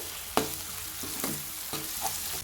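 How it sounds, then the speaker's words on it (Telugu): Tomato fries with ginger garlic paste in a pan, a steady sizzle broken by several sharp spatula strokes and scrapes at an uneven pace. "ఇప్పుడు టమాటా వేసుకోవాలి కొంచెం ఏగనివ్వాలండి"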